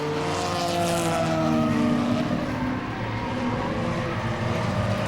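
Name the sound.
race cars at Langley Speedway enduro race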